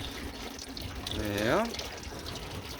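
Coolant draining from the lowest point of a 1993 Opel Corsa B 1.2 8V engine into a bucket during water pump and timing belt work, a steady trickling pour with a brief spoken word over it.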